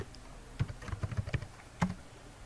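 Keystrokes on a computer keyboard while entering data into an Excel spreadsheet, a short burst of about eight clicks in an uneven rhythm, then a louder isolated tap, close and fairly quiet with no talking.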